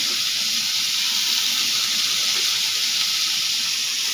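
Squash (kalabasa) frying in a pan, giving a loud, continuous sizzle with steamy hiss that holds steady and close throughout.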